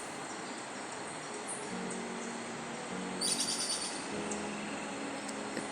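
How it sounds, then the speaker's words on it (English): Birds calling through the cool early morning in Jamaican countryside, a soft, steady chorus of chirps and hoots carried over a faint hum of insects, with a brighter, busier burst of calls partway through; no one speaks. "As you can hear the birds, they have already started their day."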